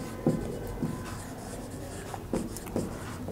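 Writing on a board while working a geometry problem, a few short scratchy strokes and taps spaced irregularly, faint and close, with no voice.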